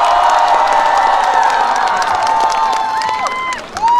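A large outdoor crowd at a tug-of-war festival celebration concert in Dangjin applauds and cheers loudly and continuously, with whoops and shouts layered over a steady roar that eases slightly near the end.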